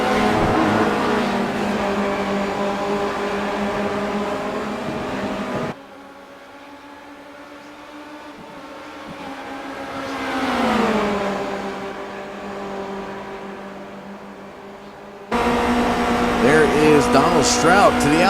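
Race cars in iRacing at the Daytona Road Course roar with steady harmonic engine whine that rises and falls through gear changes, mixed under continuous commentary, with a quieter stretch before the engines swell loud again.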